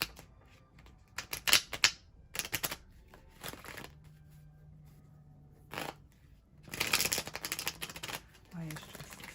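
Tarot cards being shuffled and pulled from a deck, with several short riffling bursts and soft card slaps, close by, under a quiet voice talking.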